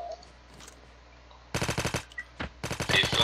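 Automatic gunfire erupts during a squad match in a video game after a quiet start: close, loud, rapid bursts with a short pause between them.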